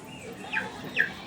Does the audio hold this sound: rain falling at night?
no